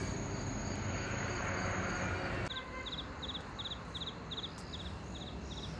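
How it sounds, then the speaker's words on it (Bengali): Crickets chirp at night in the hills of Bandarban, a regular train of short, high pulsing trills. The chirps emerge midway, after a louder broad rushing noise fades, and carry on steadily at a moderate distance. "আমরা অনেক দিন হয় ঝিঝি পোকার ডাক অথবা ব্যাঙের ডাক রাত্রিবেলা শুনতে পাই না।"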